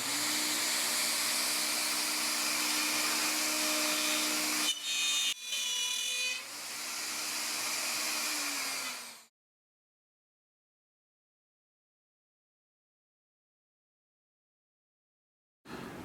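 A router cuts walnut for a tenor guitar, a loud steady high whine with a brief break midway, then spinning down and going silent before a brief return of noise at the very end.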